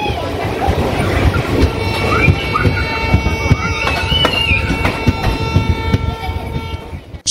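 A passenger train at Thakurganj station at night: a loud, continuous rumble of wheels on rails with metallic clatter and sustained tonal whines, with the noise easing slightly toward the end.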